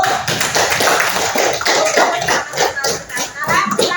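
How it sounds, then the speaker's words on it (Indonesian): A classroom of students clapping together in a sustained, dense round of applause at close range, steady for several seconds with voices mixed in. "Ya, tepuk tangan dulu."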